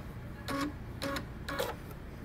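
A sewing machine backstitches a pocket seam on a jumpsuit in three short bursts of rapid stitching, each about a fifth of a second long, separated by brief pauses, close by against a quiet background.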